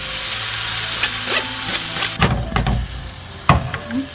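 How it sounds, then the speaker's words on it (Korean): Julienned, lightly salted potatoes stir-fried in an oiled pan, a soft steady sizzle with scraping and clacking of a utensil stirring in several distinct strokes. "물에 살짝 헹궈서 물기를 제거한 다음에 볶겠습니다."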